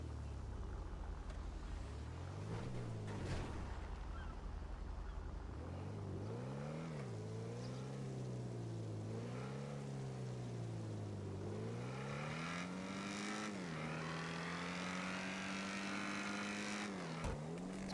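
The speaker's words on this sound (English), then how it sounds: "This jugular sounds like a motorcycle." A Jugular sports car in GTA V revs continuously with a high, motorcycle-like engine note, rising and falling through gears and throttle blips, steady and fairly close with no talk.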